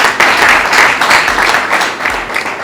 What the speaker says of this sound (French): Je vous invite à applaudir très fort Kevin Kassama et toute son équipe.